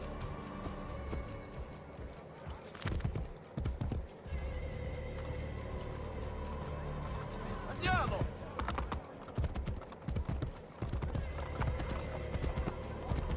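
Hooves clip-clop in a steady gallop from a horse in Assassin's Creed Brotherhood, carrying on through the whole stretch with a whinny partway in, amid game ambience and keyboard-like tapping.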